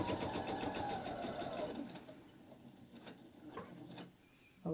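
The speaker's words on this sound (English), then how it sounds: "I'm going to stitch and bring my needle right to that pin." Sewing machine stitching binding onto a quilt, a fast rhythmic mechanical chatter for about two seconds that slows and stops, followed by faint handling clicks; no voices.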